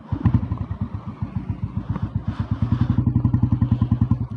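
An old red Royal Enfield Bullet Deluxe idles in neutral with a loud, close, steady thumping beat, each slow heavy pulse evenly spaced and rattling slightly.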